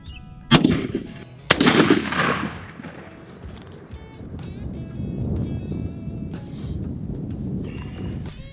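Two loud, sharp shotgun blasts from a turkey gun fired at a pattern target, spaced about a second apart, each followed by a brief echoing tail, then low rustling outdoor background.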